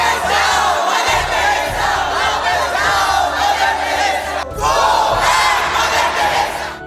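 Hostile crowd near Ranchi in 1972 shouting and chanting together, a loud, continuous roar of many voices with a brief drop midway before surging again.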